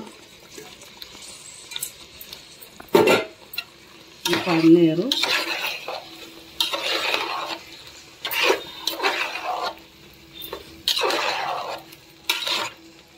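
Paneer masala curry fries in a pan while a utensil stirs it, giving repeated bursts of scraping and sizzling with a low steady frying hiss in between, close and fairly loud.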